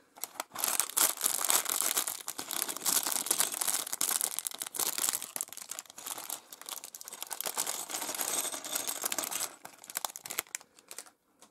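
Plastic parts bags from a Lego Classic 11007 green creative set are lifted out of a cardboard box and handled, giving a dense, continuous crinkling and rustling close up that runs almost the whole time and fades briefly near the end.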